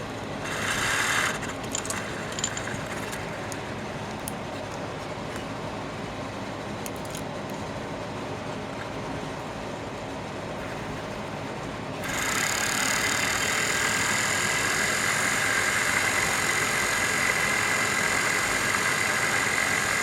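Small homemade Newman neorotor motor generator, wound with number 22 wire, running steadily with a mechanical whir and ticking that brightens and grows louder partway through, continuous with no talk.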